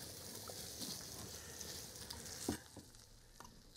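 Oxtail birria sauce fries in oil in a pan, giving a faint, steady sizzle with a few small pops and stirring clinks, heard up close in a quiet kitchen.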